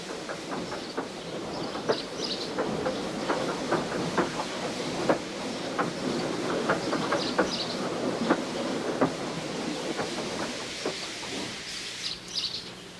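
A steam engine rolls onto a siding with rhythmic clickety-clack of wheels over rail joints, steady and fairly close, with birds chirping faintly in the background.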